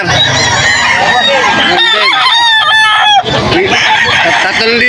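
A yellow-legged hatch gamecock at the Bocaue pet market crows loudly and close by, its call stretching across several seconds amid other fowl and people talking.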